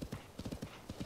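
Horse hooves clip-clopping in Zelda: Tears of the Kingdom, a quick uneven run of soft thuds close up as the mount moves along, with an occasional faint whinny and no talk.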